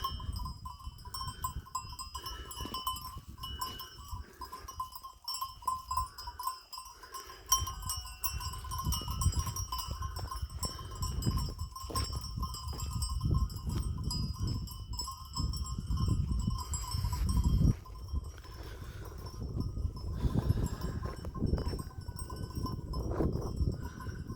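A flock of sheep, including pregnant ewes, on a farm at feeding time with a ram among them, bleating over steady bell-like ringing and continuous low shuffling noise, with no talking.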